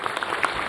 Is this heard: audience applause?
yes